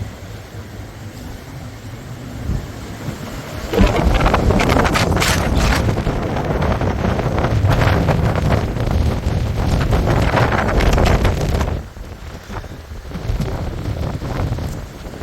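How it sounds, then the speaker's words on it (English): Strong wind of about 41 knots roars across a sailboat anchored near a reef in the bay off Kas, Turkey, rising into a loud, buffeting gust that lasts several seconds before easing and then building again, with no talk. "we have got 41 knots of wind coming through"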